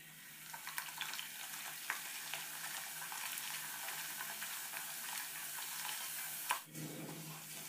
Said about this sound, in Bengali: এবারে আমি সব বেলে ছেঁকে নেব।